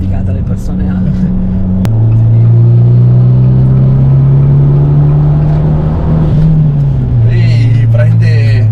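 An Abarth 595 engine revs hard and loud up close, its pitch climbing steadily before dropping back to a steady drone, with faint voice-like sounds in the background.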